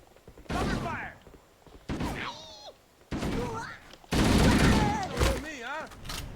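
Gunfire from Halo: Combat Evolved, several bursts of shots and impacts mixed with game voices and alien chatter, loud and close.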